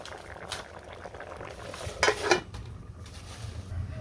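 A full pot of bamboo shoots boils steadily with a soft, continuous bubbling hiss, broken by a brief clatter of the pot or utensils midway.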